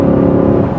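Steady, loud engine drone of a cruiser car at highway speed, a continuous low rumble with no talk over it.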